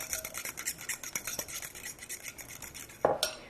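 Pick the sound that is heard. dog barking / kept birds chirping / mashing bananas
mashing bananas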